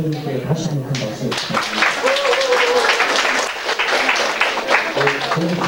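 A church audience breaks into loud, sustained applause at a gathering. Dense clapping carries steadily for several seconds over a brief voice at the start, with crowd murmur underneath.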